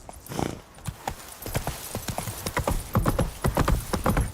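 Roach the horse galloping in The Witcher 3, a quick rhythmic run of close hoofbeats that builds and grows louder, with a brief snort near the start.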